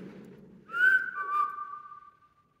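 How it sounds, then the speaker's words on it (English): A single soft, faint whistle glides in a clear tone, starting higher and settling lower, against quiet low background noise. "that machine with the faint whistle just now"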